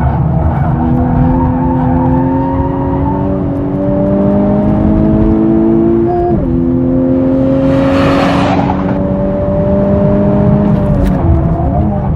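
Honda Civic Type R lapping a race track, its engine droning loud and close with rising pitch through the gears, brief dips at each shift, and a whooshing burst of wind or tire noise midway.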